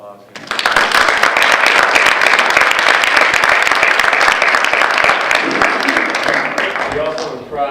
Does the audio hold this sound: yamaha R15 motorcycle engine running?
no